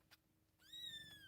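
A small kitten gives a single high, thin meow after a brief soft rustle, close and quiet.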